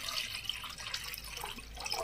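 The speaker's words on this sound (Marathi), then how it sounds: "थोडं जास्त पाणी टाकू" Water pours into a pot in a home kitchen while butter is being prepared, a soft, steady trickling splash heard faintly and close for a couple of seconds.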